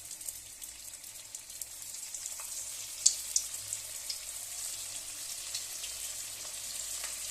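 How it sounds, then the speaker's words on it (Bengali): Veg manchurian balls fry in hot oil in a kadai over a medium-high flame, a faint, steady bubbling sizzle with a few small pops, close by and uninterrupted by talk. "কড়াইয়ের মধ্যে তেল দিয়ে এবার আমি এক এক করে আস্তে আস্তে ভাজবো।"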